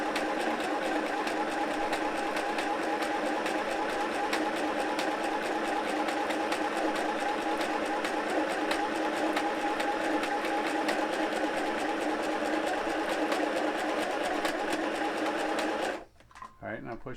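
A Buart mini sewing machine runs a seam in one long, close, steady whir that stops abruptly near the end, with voices talking over it.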